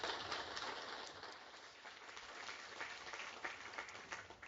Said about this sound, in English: please give me a round of applause as we welcome Glen to the stage